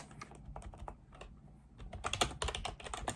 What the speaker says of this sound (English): I don't know why I'm typing it again.